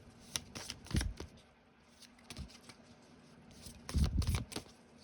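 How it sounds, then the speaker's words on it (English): Tarot cards being shuffled by hand, a deck slightly too large for the hands, with quiet riffling bursts in short clusters separated by pauses, close and soft. "let's go ahead and live shuffle some tarot here"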